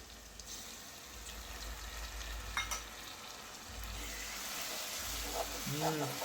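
Curry frying in oil with curry leaves and cashew paste added, a steady sizzle under light stirring clatter and a brief clink, with faint speech near the end.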